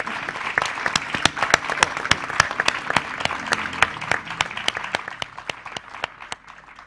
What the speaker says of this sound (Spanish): pido un gran aplauso